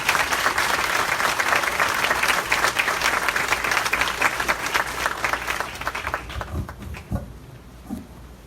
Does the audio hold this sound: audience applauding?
yes